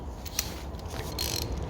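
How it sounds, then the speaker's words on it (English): A ratchet tightening engine cylinder head bolts: faint rapid clicking pawl sounds over a steady mechanical hum, close but low in level, with a couple of sharper ticks. "we're going to tighten these bolts really tight"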